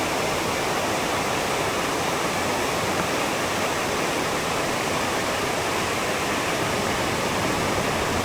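Heavy water flowing down the Silver Cascade waterfall, a loud, continuous broadband roar close by with no pauses.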